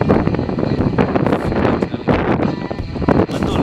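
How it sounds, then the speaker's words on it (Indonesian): Strong, cold wind buffets the microphone on a motorbike tour near Talang Babungo in Solok, West Sumatra, a continuous loud rumbling roar with gusty surges throughout. "Anginnya kencang sekali."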